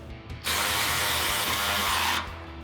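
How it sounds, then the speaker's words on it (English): Ratchet tightening 18mm frame bracket nuts on a Ford Bronco plate-style front bumper, one continuous close clicking run of about two seconds. "we've got our 18mm socket on our ratchet for that. We'll tighten these down"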